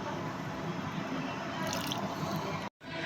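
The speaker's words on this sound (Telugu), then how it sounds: "ఇప్పుడు బాగా తడిచే వరకు కొంచెం ఎక్కువ నీళ్ళకి పోస్తున్నాను" Water is poured onto the soil of a ridge gourd planter during home gardening. It makes a steady, close trickling pour that ends abruptly.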